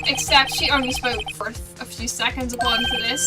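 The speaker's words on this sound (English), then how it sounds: "I heard a phone ring just now, one of those newfangled ringtones." A warbling electronic phone ringtone from the Ace Attorney video game rings steadily throughout, mixed with game music and heard under a person talking.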